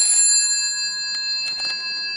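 A GPO 64D telephone bell on an operator's phone in a home PABX setup gives a bright metallic ting that rings out and decays slowly, with a few faint clicks under the sustained tone.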